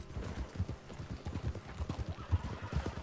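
Horse hooves clip-clopping at a steady walking rhythm in the Red Dead Redemption 2 online game, close and moderately loud, with an occasional soft whinny and no talk.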